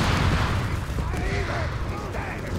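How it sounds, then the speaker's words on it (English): Grenades going off during a World War II battle in Company of Heroes 3, with rumbling blasts and gunfire layered under continuous excited commentary. "Smoke off, grenades being chucked here. A lot of grenades being chucked back."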